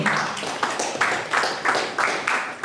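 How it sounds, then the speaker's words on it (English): Rhythmic clapping from an audience at a university agroecology event opening, honoring the Vice Chancellor, moderately loud and evenly paced in a series of distinct bursts. "Please, another beautiful round of applause for the Vice Chancellor."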